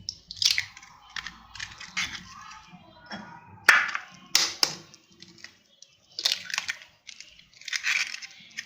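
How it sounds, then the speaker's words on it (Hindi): Eggs cracked into a bowl, with several sharp taps and crunches of shell followed by hollow clicks and bowl clatter, close and irregular. "अंडे तोड़ के डालूंगी"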